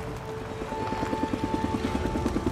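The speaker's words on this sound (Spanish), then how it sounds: "¡Helicóptero!" In the video game Days Gone, a helicopter flies overhead, its steady rotor thumping in a fast rhythmic pulse over a constant engine whine, loud and continuous throughout.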